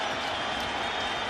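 Dense, steady roar of a baseball stadium crowd at a Rays versus Yankees game, many fans standing with bases loaded, a broad continuous wash of cheering and murmur with faint scattered clapping.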